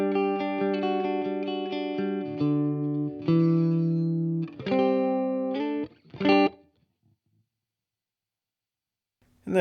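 A TMG Gatton electric guitar runs clean into a Strymon Iridium amp modeler with no effects, playing a few bright sustained chords and single notes that ring out and stop, followed by near silence.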